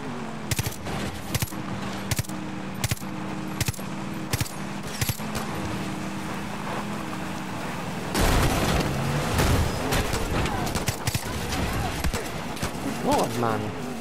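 SMG gunfire from the shooter game Far Cry New Dawn. Short rhythmic bursts of shots come first, then a denser, louder stretch of overlapping fire and impacts, with voices mixed in.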